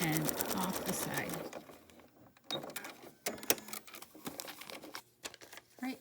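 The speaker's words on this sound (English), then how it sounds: "Follow the crease, sew on the line, and off the side." A sewing machine stitches fabric onto a paper foundation along a marked line, a close, dense run of stitching at the start that stops, followed by scattered clicks and handling sounds.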